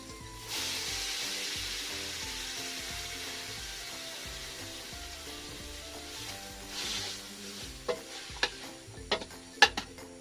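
Corn hits a hot pan of fragrant aromatics and is stirred, a soft steady sizzle with scraping strokes, and a few sharp utensil knocks near the end.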